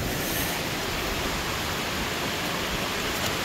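Loud, steady roar of rushing water at Pagsanjan Falls in Laguna, a dense continuous wash of white-water noise with no pauses and no voices.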